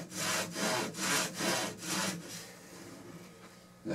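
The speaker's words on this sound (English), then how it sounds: "So I'm getting ready to make the cut here, and I don't have a miter box" A hand saw cutting wood trim without a miter box, heard as about five even, rhythmic back-and-forth strokes close up that then fade into lighter rasping.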